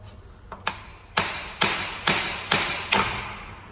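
A hammer taps a CV axle forward on a 2007 Ford Fusion: two light taps, then four sharper metallic strikes in an even rhythm, each one ringing briefly. The strikes are close and clear over a quiet background.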